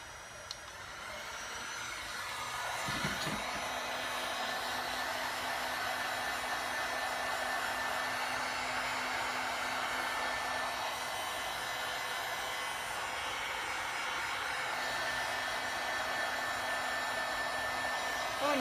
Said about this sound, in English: Let's do the heat gun.